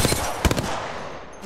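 Apex Legends gunfire: a quick burst of several sharp, close shots around the middle, over a steady background of game noise that fades out toward the end.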